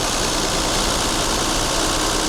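A Mercedes W126 280SEL engine idling at about 920 rpm just after repair work on its fuel distributor, giving a steady, even hum with a fine rough texture. It runs loud and continuous throughout with no speech.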